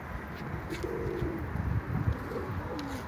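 Soft, low pigeon coos repeat a few times nearby, rolling and throaty, over a steady background hum.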